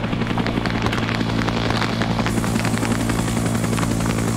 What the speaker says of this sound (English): Huey is back and landing.